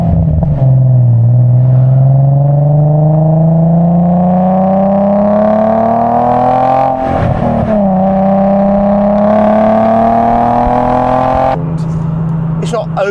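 Nissan 370Z sports car with a stainless steel catback exhaust, burbling and rising steadily in pitch as it accelerates, close and loud, with a short dip and a gear change partway through.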